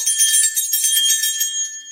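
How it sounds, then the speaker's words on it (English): A new handheld bell rings continuously with a bright, high metallic tinkle, close and loud, fading out toward the end, with no voices. "Somebody's got a new bell."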